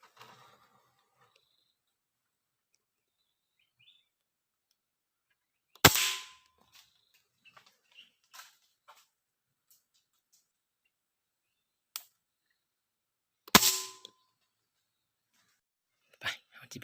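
Two sharp reports from a PCP M4 air rifle fired while hunting in the evening, spaced several seconds apart and loud against a quiet outdoor background, with a few faint clicks and knocks in between.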